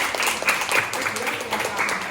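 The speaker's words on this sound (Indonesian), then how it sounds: "Tepuk tangan untuk dia." Students in a classroom clap in a short burst of applause, with voices mixed in over the clapping.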